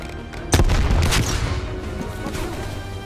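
Gunfire at a burger place in Call of Duty: Black Ops Cold War, a sharp loud blast followed by a burst of rapid shots and echoing booms, then trailing off.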